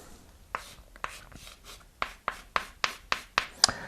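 Marker or chalk strokes on a board drawing a square, a series of short, crisp scratchy strokes close up, sparse at first and then coming in a quicker, regular run of separate strokes, with no voice over them.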